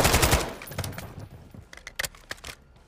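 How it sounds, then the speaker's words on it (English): Automatic gunfire crackles in bursts during a Modern Warfare 2 campaign firefight, a loud dense volley at first followed by scattered sharp shots and clatter. "Who's shooting at me?"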